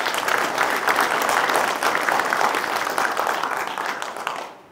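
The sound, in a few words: audience applause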